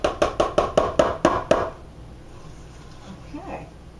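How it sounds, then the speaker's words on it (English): Butter cake batter being cleared from a mixing bowl, heard as eight quick, evenly spaced knocks of a utensil against the bowl, close and crisp, followed by faint rustling. "I'm going to get the rest of this out of the mixing bowl"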